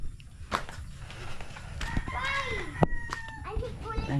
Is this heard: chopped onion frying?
no